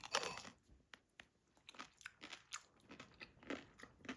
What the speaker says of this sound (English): Really yummy, crunchy pickles.